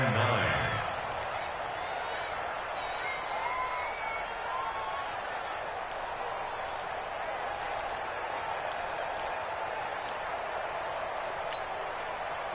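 A stadium crowd in an American football video game cheers ahead of a big third down, a broad continuous roar with a few sharp ticking clicks on top, steady and moderately distant.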